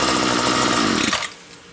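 A gas-powered string trimmer, just taken off choke, runs loud and close with a buzzing, rattling engine note that stops abruptly partway through, leaving near silence.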